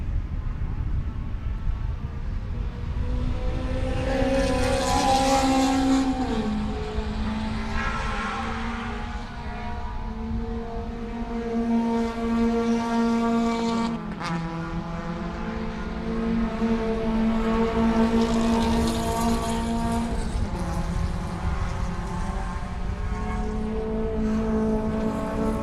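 Race cars lapping the Sebring circuit during a winter race weekend, their engines droning in layered tones that rise and fall as cars pass at a distance, a continuous roar with no talk.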